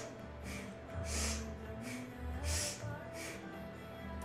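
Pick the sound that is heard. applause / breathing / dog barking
breathing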